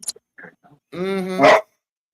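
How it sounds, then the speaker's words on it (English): A dog playing with a cat lets out a couple of quiet yips followed by one loud, close bark, the sounds short and abrupt. "a dog and a cat trying to play with each other"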